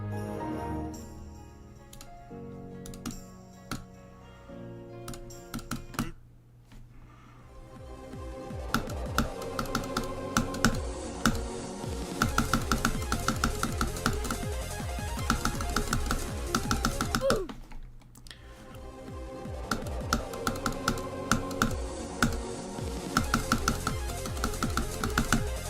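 Keyboard clicks while a game of Bloodbath is played, rapid bursts of sharp taps and clacks at an uneven rhythm over a loud musical background, close and continuous.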